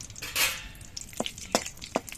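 Bay leaves and whole garam masala (cardamom, cinnamon, cloves) fry in butter for a paneer curry, giving a soft sizzle with a brief louder hiss early on and a few sharp utensil clicks.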